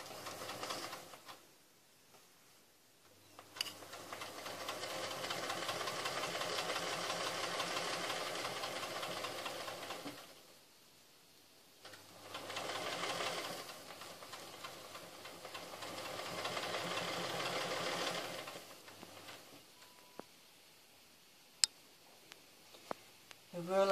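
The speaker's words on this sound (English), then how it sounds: "I'm just going to start stitching slowly" A Singer 201 sewing machine stitches slowly during ruler work, running in two sustained bursts of steady mechanical whirring with a soft rhythmic chatter, separated by quiet pauses and ending with a few small clicks.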